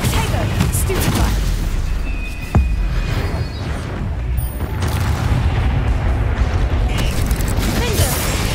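Spell explosions, including the Confringo blasting spell, during a fight in the video game Hogwarts Legacy: loud, dense booms and crackling blasts throughout, with a sharp impact partway through, mixed with battle noise and shouted voices.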